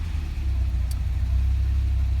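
A 1987 Bertone X1/9 engine idles at about 800 RPM, a steady low rumble heard close by with one brief faint click partway through.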